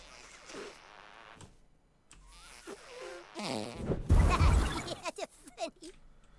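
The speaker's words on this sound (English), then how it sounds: "I just farted on you." Fart sound effect in South Park: The Stick of Truth, a loud burst of low raspy noise amid other game effects and talking.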